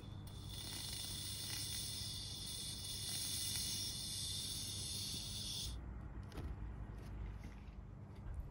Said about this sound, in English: I'm going to release some LPG into it